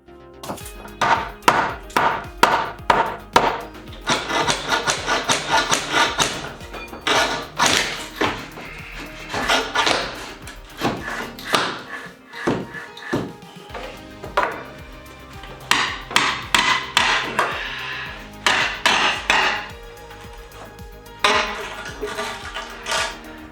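Hammers strike while XPS foam insulation is fitted to basement walls. Loud, close blows come in quick runs of repeated taps and thuds, separated by brief pauses.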